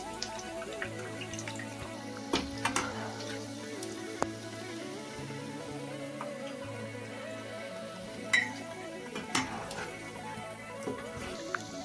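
Palak and potato pakoda frying in hot oil, a steady low sizzle and bubbling that runs throughout with a few brief clinks and stirs on top.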